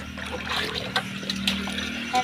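Water runs and trickles steadily with occasional clinks and splashes, like dishes being rinsed under a tap, with a low hum in the background.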